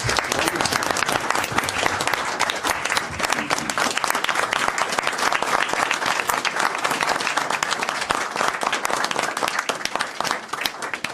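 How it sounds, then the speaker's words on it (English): Audience applause at a council meeting, a dense, steady round of clapping from a crowd filling the room, loud and sustained throughout with no talk over it. "A round of applause."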